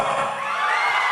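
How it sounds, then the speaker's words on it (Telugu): An audience at a film pre-release event cheering and shouting with joy, a dense wash of voices and whoops held steady through a brief moment, at a distance. "ఇది ఆనందంలో వచ్చే అరుపులండి"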